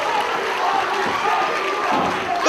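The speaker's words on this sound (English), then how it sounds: "The crowd are on their feet" Wrestling arena crowd cheering and clapping during a tag team tables, ladders and chairs match, a dense, steady roar of many voices with scattered claps, close and loud throughout.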